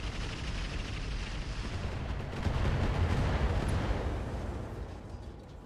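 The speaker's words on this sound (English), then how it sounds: "They're just taking an absolute beating from our long-range artillery." Long-range artillery fire in the RogueTech game, a continuous low rumbling barrage of distant booms that swells in the middle and fades slightly, fairly quiet with no speech.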